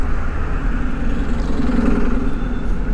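Busy city road traffic with replacement buses standing in for trams: a steady low rumble of idling and moving engines throughout, fairly close and loud, with no voices.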